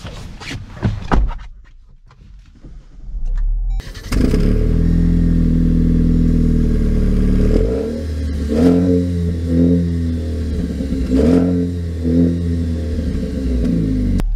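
A 2023 Jeep Compass Trailhawk starting up after a few clicks and clunks, then its engine settling into a steady rumble before revving in several rising surges as it pulls away, loud and close with no talking.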